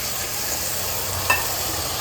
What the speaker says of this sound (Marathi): आता याच्यामध्ये थोडासा पाणी ॲड करू आपण.